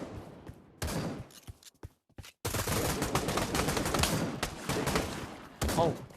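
Shotgun fire in the virtual reality shooter Pavlov VR, with dense bursts of loud gunfire and rapid blasts broken by short silent gaps, close and harsh throughout.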